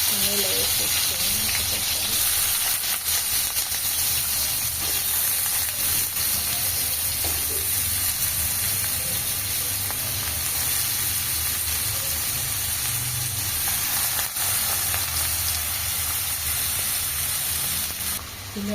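Onions frying in hot oil for a brinjal curry give off a steady, close sizzle with a soft hiss that runs unbroken the whole time, over a faint low background hum.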